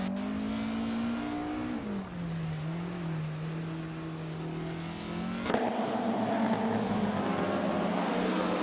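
1950s Formula One race cars in a racing simulator game, a continuous droning engine note that dips, wavers and then jumps in pitch as another car joins, close and steady with no voices.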